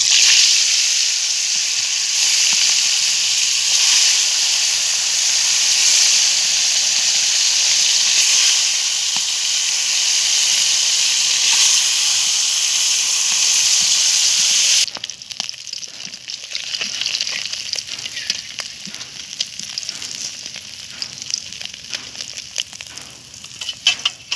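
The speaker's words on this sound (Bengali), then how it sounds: "তেলটা গরম হয়ে গেছে, এবার আমি মাছগুলো ভেজে নেব।" Loud, steady sizzling of koi fish frying in hot oil, with a hissing crackle that thins into sputtering pops toward the end.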